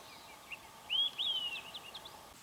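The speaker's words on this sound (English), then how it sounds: "I can hear olive-sided flycatcher and yellow-bellied flycatcher at the same time" Olive-sided and yellow-bellied flycatchers sing together in a Maine boreal forest, heard as faint, distant whistled phrases rising and sliding over quiet background ambience, with a couple of short calls in under three seconds.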